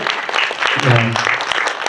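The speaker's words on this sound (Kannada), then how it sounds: "ಜೋರಾಗಿ ಚಪ್ಪಾಳೆ ಒಂದ್ಸಲಿ ತಟ್ಟೋಣ ಸುದೀ ಸರ್ಗೆ" Audience clapping at a Kannada movie song release event, a dense steady burst of applause lasting about two seconds with a voice or music briefly rising partway through.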